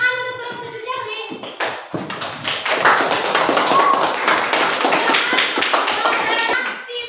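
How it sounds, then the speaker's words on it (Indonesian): A voice speaks briefly, then a classroom of students breaks into brisk, close clapping for a presenting group, many hands patting rapidly for several seconds with some children's voices mixed in. "Tepuk tangan untuk grup sujud syahwi"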